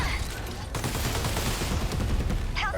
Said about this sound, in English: we're gonna use the multifaceted rocket launcher here right now